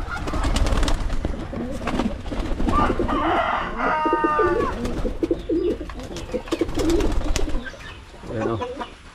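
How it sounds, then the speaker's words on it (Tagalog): Pigeons cooing in a loft with young squabs and eggs, soft repeated throaty coos amid other bird noise, with a person talking throughout. "Kasi may mga bago naman tayong inakay dito ng kalapati."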